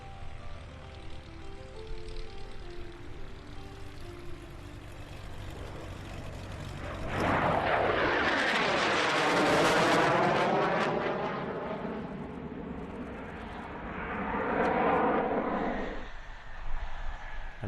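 A T-38A Talon jet trainer from the 1st Fighter Wing at Langley AFB, Virginia, at an air show, roaring past with a rising then falling jet whoosh, followed by a second fainter swell as the engine sound fades away.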